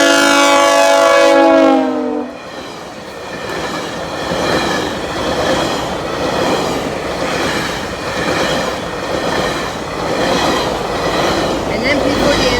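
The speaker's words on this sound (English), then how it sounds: "Okay, everyone, we have a GO train coming." A GO Transit train with MP40 locomotive 651 sounds its horn loudly at a level crossing, then rumbles past up close with steady rolling clatter of wheels and cars for about ten seconds.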